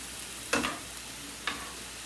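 Steak, peppers, onions and mushrooms frying in a pan, with two brief scrapes of a metal utensil stirring them over a steady low sizzle.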